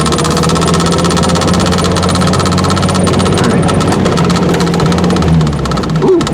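A Ford Fiesta engine started after 17 years runs roughly and steadily, the fuel pump running out of gas, with a constant loud mechanical hum and vibration and a slight stumble near the end.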